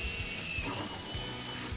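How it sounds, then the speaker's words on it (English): A power drill with an 11/32 bit bores a hole through an aluminum motorcycle pannier, a steady close whine with a shift in pitch partway through as the bit cuts. "we'll take an 11/32 drill bit to drill out that hole"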